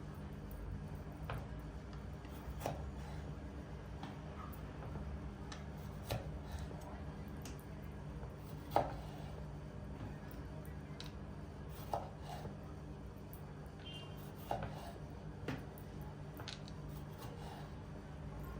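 A knife cuts tomatoes and peppers into quarters for chicken skewers, producing sparse, faint clicks and taps on a board against a low, quiet hum, with occasional louder knocks.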